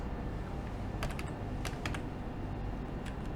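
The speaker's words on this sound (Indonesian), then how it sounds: "ketikkan localhost" Keys clatter on a computer keyboard as someone types an address into a browser on a Windows 10 PC. Small clusters of quiet, close clicks sit over a steady background hiss.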